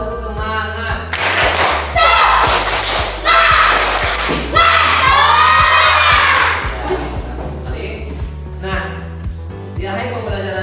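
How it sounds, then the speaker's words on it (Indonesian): Students at a school lesson stand and do a rhythmic spirit clap. Loud patterned bursts of claps with shouts and cheers are followed by quieter claps and chatter. "Silakan berdiri kembali dan tepuk semangat"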